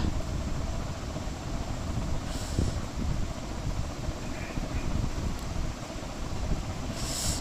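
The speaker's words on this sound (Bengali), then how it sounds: "আর ছাদে তেমনি হাওয়া" Steady wind rushes across an open rooftop, a broad continuous hiss with faint gusts and no voices.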